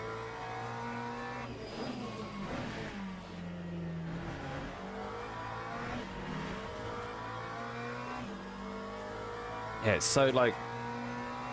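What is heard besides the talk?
BMW race car engine upshifting in a Le Mans racing video game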